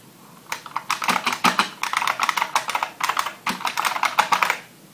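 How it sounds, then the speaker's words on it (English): Rapid typing on an IBM Model M Space Saver keyboard, bursts of loud, crisp clicky keystrokes clattering close up, broken by short pauses between runs. "Let me type on it one last time just so you can get a sense of the keys and how it sounds."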